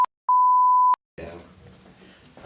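Censor beep: a single steady, pure tone lasting well over half a second, preceded by a brief blip, loud and isolated, followed by a muffled voice and room noise.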